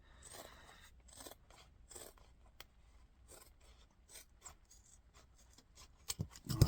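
Scissors snipping through leather while making a drawstring pouch, a series of close, crisp cuts in uneven bursts, fairly quiet, ending with a louder handling knock.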